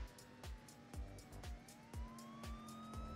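Police car siren in a Roblox video game, a rising wail sounding clearly over a steady beat of regular thumping game sounds, with no talk over it.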